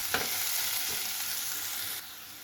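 Onion with a pinch of asafoetida frying in a pan, a steady close sizzle with a few soft stirring scrapes, alone with no talk.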